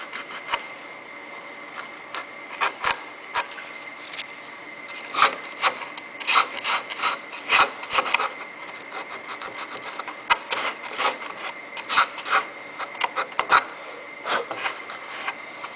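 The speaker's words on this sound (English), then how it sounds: "you can take a little bit of sandpaper and sand down this" Sandpaper rubs back and forth on the wood of a gas RC airplane, smoothing a cut slot for a switch. Close, irregular rasping strokes repeat in bursts, with no talking.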